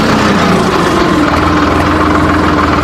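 A second-hand Sonalika RX 47 tractor engine runs loud and steady with a deep, throbbing low-frequency rumble and a slight knocking vibration as it is put into second gear.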